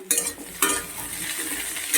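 Tender okra is fried lightly and stirred in a pan, with a soft sizzle and a few sharp scrapes of the spatula against the metal.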